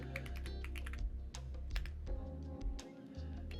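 Rapid clicking of a computer keyboard as a city name is typed out, a dense run of crisp keystrokes in uneven bursts over a steady low hum, close and fairly quiet.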